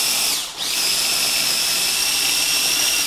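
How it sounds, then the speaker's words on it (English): A blender purees an avocado and tomatillo dip with a loud, close, high-pitched whine that dips briefly as the blades catch, then holds steady and continuous. "I'm just gonna puree this"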